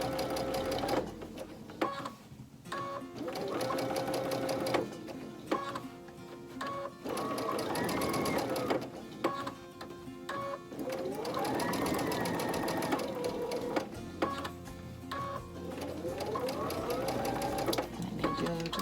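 A sewing machine stitches a wagon wheel quilt block in steady runs of rapid needle clatter, pausing briefly now and then as the fabric is turned and a short back stitch is sewn.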